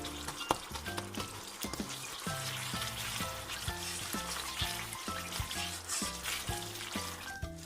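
Sugar bubbling in a pan as it dissolves for potato chip balado, a soft, steady sizzle and bubbling with occasional light stirring, close and fairly quiet.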